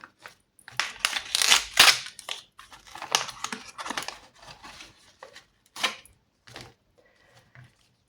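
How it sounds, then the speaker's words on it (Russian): A paper toy packet with a crown on it being torn open by hand, crisp crinkling and ripping bursts in close bursts, loudest early then tapering into sparse rustles. "предлагаю открыть пакетик с короной"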